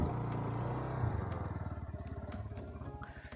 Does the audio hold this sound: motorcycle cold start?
yes